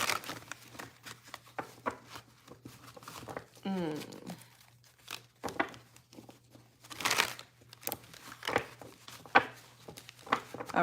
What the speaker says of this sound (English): Get a couple more shuffles in here.